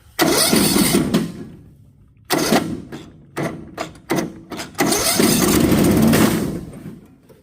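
A petrol lawnmower on choke cranks and catches with its blades engaged, giving a loud burst of engine noise, several short sputtering bursts, then a sustained run before cutting out, close up.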